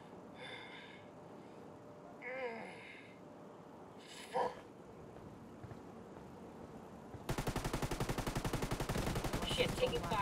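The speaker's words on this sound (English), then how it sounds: "Shit, taking fire. Man down. I'm hit." Heavy gunfire breaks out after several seconds of faint scattered noises, turning into a loud, rapid, continuous stream of machine-gun bursts that lasts to the end.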